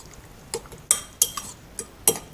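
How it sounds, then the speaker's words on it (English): Eggs for an omelette being mixed in a bowl: a handful of sharp utensil clinks and taps against the dish, spaced irregularly over a quiet background. "we'll just give all this a good mix up"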